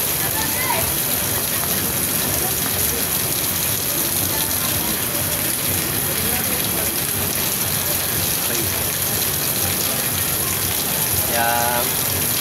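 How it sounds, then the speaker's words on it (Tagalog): Heavy rain pours down in Manila, a loud, continuous wash of water hammering surfaces close by that holds constant throughout, with a faint brief voice-like sound near the end. "Grabe ulan."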